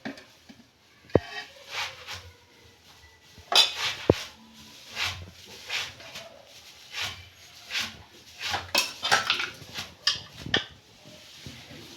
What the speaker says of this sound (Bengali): বিরিয়ানির আলু দেব